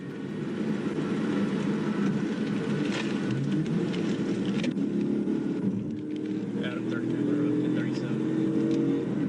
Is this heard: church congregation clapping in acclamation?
no